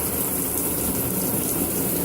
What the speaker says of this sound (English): Okay, running the water